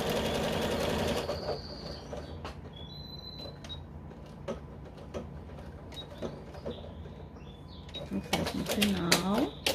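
Sewing machine stitching a patchwork fabric glasses case, with short bursts of rapid mechanical stitching and clicks separated by pauses, close by, while someone talks over part of it.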